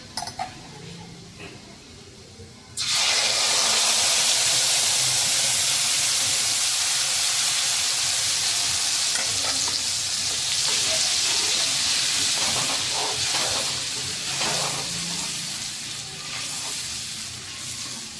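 Asafoetida and Kashmiri red chili powder hit hot oil for a hotel-style matar paneer gravy, bursting into a loud, sustained sizzle and hiss that carries on steadily for many seconds, with faint pan clatter beneath.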